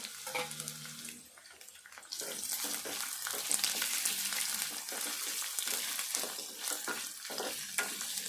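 Chopped onions frying in a pan for a Telugu-style onion chicken dish, a steady broad sizzle with stirring scrapes and clatter, quieter at first then louder and dense throughout, no voices.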